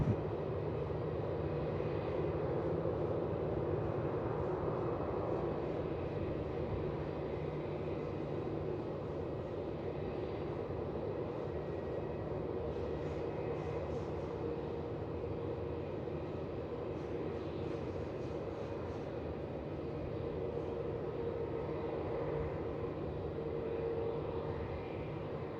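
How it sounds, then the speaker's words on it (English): A Philippine Airlines Airbus A330 touches down on runway 16 at Melbourne Airport, heard as a faint, distant, steady jet roar and rumble that holds throughout. "Now we're looking at Philippine A330 coming into touchdown on 16."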